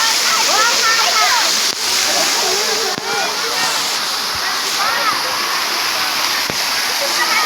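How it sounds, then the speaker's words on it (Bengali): A garden fountain at Kathgola in Murshidabad, a continuous loud rush and splash of falling water close by, with voices talking faintly beneath it. "এখানে একটি সুন্দর ফোয়ারা আছে"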